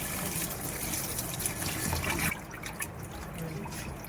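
Water pours into a kadai over raw chicken pieces being cleaned for biryani, a close, steady gushing flow that softens partway through.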